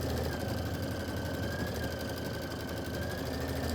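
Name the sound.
Kimberbell embroidery machine stitching out a quilt block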